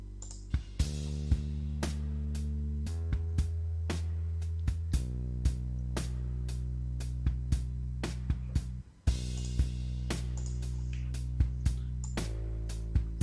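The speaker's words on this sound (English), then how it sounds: "So you can hear that it's just a pretty standard kit sound with a bit of an electronic snare sound" A bass guitar plays steady low notes while a drum kit keeps a regular beat with crisp, electronic-sounding snare hits; no voices.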